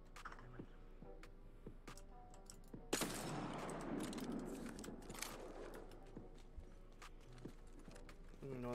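Gunfire in the shooter game Apex Legends crackles as a dense, far-off burst of rapid shots beneath a steady background rumble, with a player's voice talking over it.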